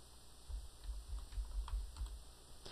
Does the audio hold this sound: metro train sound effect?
no